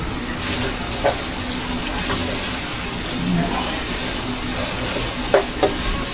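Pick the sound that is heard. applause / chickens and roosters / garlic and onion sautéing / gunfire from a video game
garlic and onion sautéing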